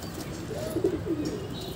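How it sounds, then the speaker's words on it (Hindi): A Lalsira pigeon, a broad-headed male, gives a soft, low cooing call nearby, a short rolling coo in a quiet courtyard with faint background noise. "ये है ललसीरा कबूतर"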